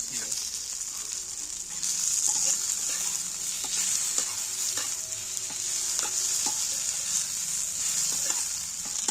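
Cut tomato frying in a pan with spices makes a constant close sizzle, with irregular stirring clicks and scrapes running through it.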